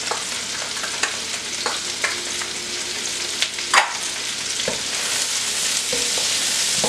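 Garlic and ginger sizzle loudly in a hot pan for beef and broccoli, a steady crackling fry with occasional stirring scrapes and pops, close up and without talk.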